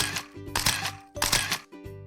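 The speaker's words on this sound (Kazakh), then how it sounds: "Фотоаппарат." A photo camera shutter effect fires in several crisp, repeated clicks with short gaps between, loud and close over a sustained musical backing tone.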